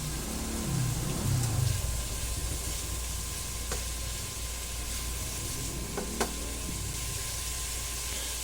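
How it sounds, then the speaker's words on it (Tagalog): Sayote sizzles steadily in a frying pan while being stirred, a constant hiss with a few faint scrapes and clinks from the utensil against the pan, and no talking. "Haluin lang po natin ang maigi para po magpantay ang kanyang luto"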